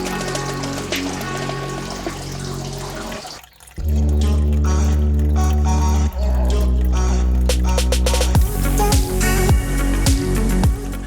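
Water pours steadily into a planted betta aquarium, a loud continuous rushing gush with a brief dip midway before the flow resumes at full strength, then bubbling and dripping as the level rises, with no voices.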